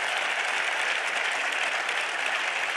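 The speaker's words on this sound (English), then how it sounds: "Give yourself a round of applause for being here" A room full of people applauds at a university football coach introduction, continuous bright clapping that stays steady and fairly loud throughout.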